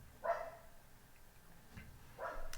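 Dogs bark in the background, a few short muffled barks spaced over a couple of seconds, faint and somewhat distant.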